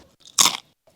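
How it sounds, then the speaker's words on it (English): One loud, sharp crunch of teeth biting into crisp potato crisps, close up, surrounded by near silence. "Very crunchy, crispy."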